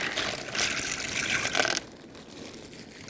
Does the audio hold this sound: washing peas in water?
yes